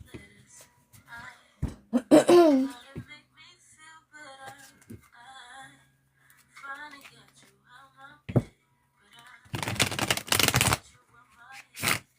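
Cards are riffled and shuffled in a few brisk bursts, with a person talking quietly between the shuffles.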